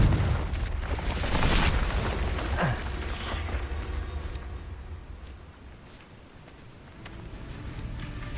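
The Confringo spell in Hogwarts Legacy sets off a fiery explosion, a deep rumbling boom that swells early and then settles into a long roaring tail of debris and crackle.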